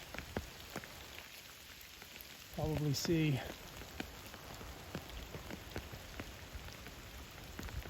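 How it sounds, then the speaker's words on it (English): Steady rain patters and splashes into puddles close by throughout, on the Appalachian Trail, with a brief spoken phrase partway through. "As you can see, it is raining."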